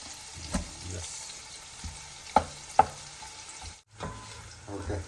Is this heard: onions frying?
yes